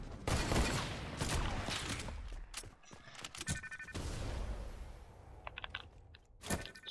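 Rapid bursts of gunfire in the video game Fortnite, dense overlapping volleys crackling close and loud, with brief lulls between flurries and no voices.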